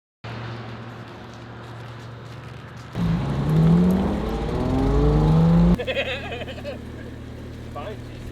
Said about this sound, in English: I got caught off guard by the sound of the Super revving